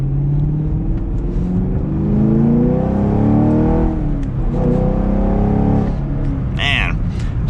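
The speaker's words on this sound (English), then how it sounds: "Man, even just short shifting under 5K, it's a good motor for sure." V8 engine of a 2022 Chevrolet Camaro 2SS 1LE with a manual gearbox pulls hard under acceleration, the loud exhaust drone climbing in pitch, dropping briefly at a short shift, then rising again, heard from inside the car.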